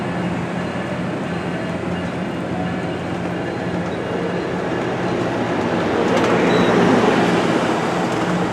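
Amtrak passenger train, number 765, rolling past on its way to Goleta, a loud continuous rumble and rush of wheels on track that swells slightly toward the end, with faint high squeals.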